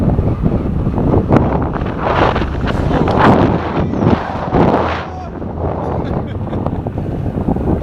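Strong wind buffets the microphone in loud, roaring gusts that rise and fall without pause while riding a seated electric unicycle.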